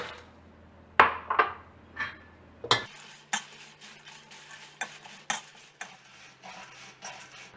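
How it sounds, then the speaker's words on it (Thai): Chilies are dry-roasted in a pan over low gas flame: irregular clinks and scrapes of a utensil against metal, close up, over a faint low hum. "เราจะเริ่มจากการคั่วพริกให้หอมค่ะ"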